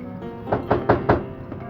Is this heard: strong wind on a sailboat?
no